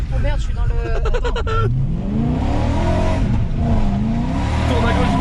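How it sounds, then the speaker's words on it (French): A BMW engine revs hard as the driver accelerates, loud and close, its pitch sweeping up and down through gear changes, with a rapid rattling burst early on and voices talking over the engine noise. "Vas-y, accélère."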